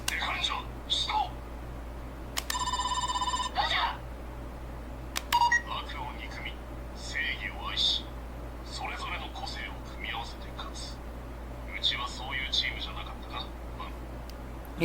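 Toy cell phone buttons pressed one at a time, each setting off a short electronic beep or tone effect, with quiet talk and background hiss between the presses.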